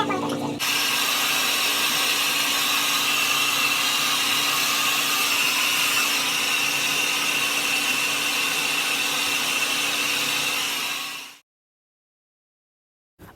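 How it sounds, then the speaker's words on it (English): A hair dryer blows steadily close by for about eleven seconds while it dries hair, a loud continuous whirring rush that cuts off abruptly near the end. "I'm going to blow dry and I'll speed it up while I blow dry it"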